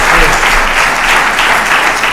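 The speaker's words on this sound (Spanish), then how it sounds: "vamos a darles un aplauso" An audience applauds at an awards presentation following a talk on triathlon and Olympism, a dense, loud burst of many hands clapping that continues evenly throughout.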